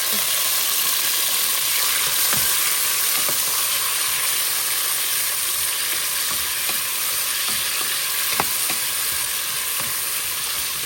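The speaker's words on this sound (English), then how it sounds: "Saute this down." Celery, carrots, pimento, onions, tomatoes and hot peppers sauté in a pot with a loud, constant hissing sizzle, broken by scattered sharp taps and scrapes of stirring.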